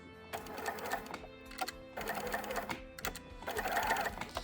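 A sewing machine runs a straight stitch at 2.5 length along the shoulder flounce of a tube top, whirring in three steady rhythmic runs that stop briefly in between, loud and close with no talking.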